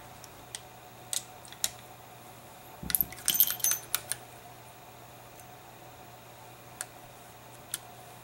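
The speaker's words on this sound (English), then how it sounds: "this Dan Wesson, you pull down on a latch mounted in front of the cylinder" A Dan Wesson revolver's cylinder latch, mounted in front of the cylinder, is pulled down to unlatch it: a few sharp metallic clicks and a short cluster of rattling mechanical snaps, close and fairly quiet over a faint steady hum.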